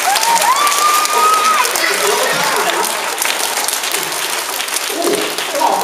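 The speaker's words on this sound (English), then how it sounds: "On the count of 3, give me your applause" Loud, sustained applause and cheering from a school assembly audience at an elementary school, steady throughout with crowd voices, whoops and a high whistle-like shout early on.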